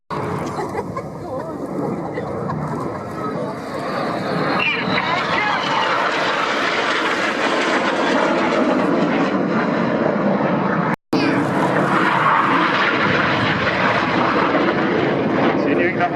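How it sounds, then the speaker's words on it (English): Military jets fly low at a Royal Navy air display at RNAS Yeovilton, with a loud sustained roar that swells and sweeps past, nearly drowning out an announcer talking over a public address. "keep your eyes on the aircraft staying low."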